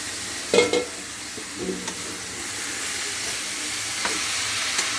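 Boiled jackfruit pieces drop into a hot pan with ginger garlic paste, giving a loud sizzle at the start that settles into a steady frying hiss, with occasional stirring scrapes and no talking.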